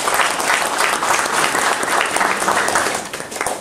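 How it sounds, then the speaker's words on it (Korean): Steady applause from an audience at a disability sports policy workshop, a dense, even wash of many hands clapping that holds for several seconds and tapers slightly at the end. "큰 박수 한번 드립시다"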